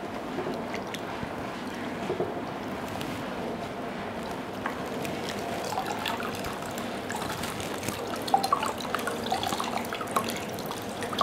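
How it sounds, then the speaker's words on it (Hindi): Cold bottled water trickles and drips as a cloth bandage is soaked, a soft steady wet dribbling with small splashes, close and continuous with no talk. "इस पर पट्टी को पूरा गीला कर लेंगे,"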